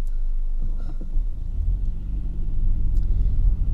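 Car engine idling in a Spanish traffic jam, a steady low rumble close inside the cabin that swells slightly toward the end, with no talk over it.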